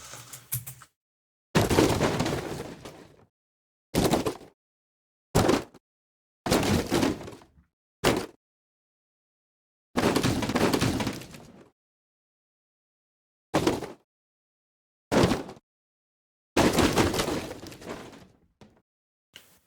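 Granular-synthesis debris effects made in Phaseplant for game audio: a series of separate crumbling, crashing bursts of different lengths, each clean and up close, with silence between them.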